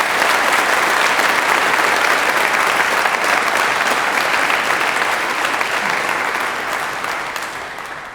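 An audience at a university graduation ceremony claps in loud, sustained applause that fills the hall, then gradually tapers off near the end.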